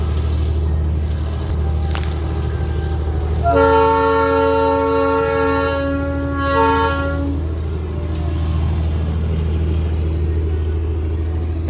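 Darjeeling toy train sounding its horn: one loud, sustained blast of several seconds rising over the steady low rumble of the train running close by.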